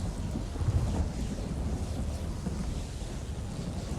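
Thunder from a lightning spell in The Elder Scrolls Online rumbles low and continuously, with a swell near the start, over a wind-like hiss and no voices.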